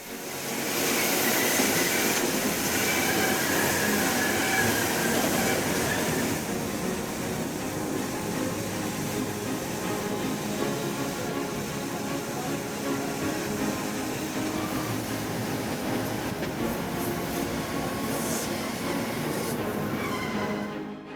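A Swiss train runs along a spiral loop where the track circles back beneath itself, a steady heavy rumble of wheels and carriage noise that holds continuously and eases slightly in the later part.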